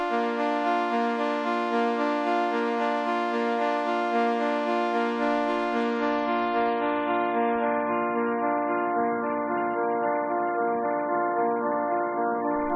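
A sustained harmonic tone passed through the Goodhertz Lossy plugin loses its upper range partway through, leaving a dull, bandwidth-starved, low-bitrate smear with faint low rumble creeping in underneath.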